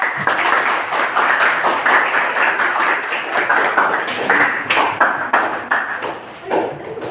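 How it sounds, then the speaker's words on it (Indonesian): A classroom of students claps for a student group after their answer is confirmed correct, a dense burst of close, sharp hand claps running steadily throughout with brief tapping accents. "Jadi tepuk tangan untuk kelompok."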